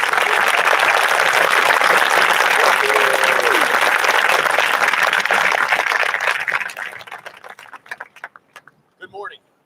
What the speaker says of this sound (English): How about one more round of applause for our musicians?